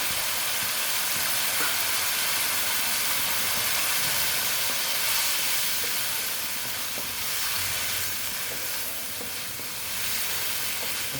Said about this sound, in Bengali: দেখো মাছগুলো দিয়ে দিচ্ছি মাছগুলো এটা শুনে কষিয়ে নেবো